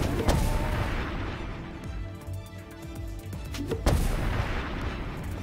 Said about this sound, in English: Death by butt cannon.